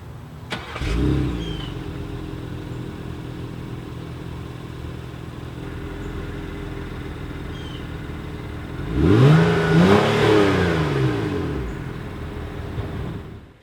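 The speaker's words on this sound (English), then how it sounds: "push this red candy-like button right here. And it starts right up." A 2016 Acura MDX engine cranks and catches with a sharp start, settles into a steady idle, then revs up loudly around the middle before easing back down, heard up close with no talking.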